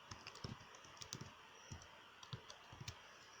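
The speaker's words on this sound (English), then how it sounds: "You are going to type setting in your search button here." Someone types on a computer keyboard, a quick irregular run of light clicks and key taps, close and quiet, with no talking.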